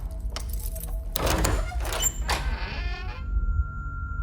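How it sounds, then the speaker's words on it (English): Keys jangle and door locks click and clunk open one after another outside a door, a cluster of metallic rattles and mechanical thuds over a low steady background hum. "The locks outside my door jangled, and I heard a set of keys methodically opening each"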